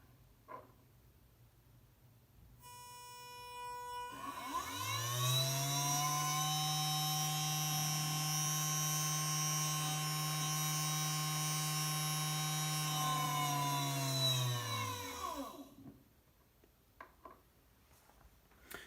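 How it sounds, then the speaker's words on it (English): A joystick-controlled electric motor whines up from quiet, holds a steady high-pitched hum for about ten seconds, then winds down again, with faint background noise and brief clicks before and after. "the farther you push the joystick forward, the faster the motor will spin"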